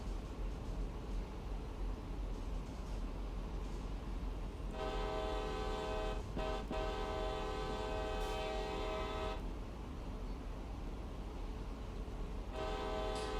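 A long, loud CSX locomotive horn in Train Sim World, on a coal route, blasts over a constant engine rumble, pauses briefly, sounds again, then returns for a short final blast.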